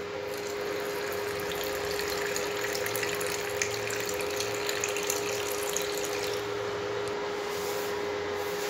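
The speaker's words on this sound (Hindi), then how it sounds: "और इसमें मिलाएंगे अब हम गरम दूध।" Hot milk pours steadily into coffee for several seconds, a continuous close liquid rush with a faint steady hum underneath and no speech.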